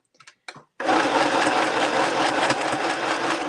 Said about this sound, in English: And then sew them together.